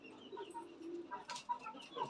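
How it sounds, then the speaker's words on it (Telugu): Chickens in a village yard cluck softly, scattered short calls over a faint steady background hiss. "ఇదిగోండి ఫ్రెండ్స్, ఇవి కోళ్ళు అన్నమాట."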